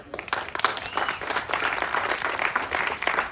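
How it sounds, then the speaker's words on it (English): Moderate applause from an audience at a discussion event, a steady patter of many hands clapping with fairly even loudness over a few seconds, no voices standing out. "Give a round of applause."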